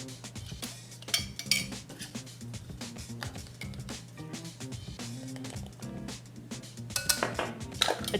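Carrot cake ingredients mixed in a bowl, with rapid clinks and scrapes of a utensil against the bowl in an irregular rhythm, close and moderately loud, no voices.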